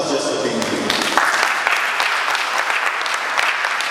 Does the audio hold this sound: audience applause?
yes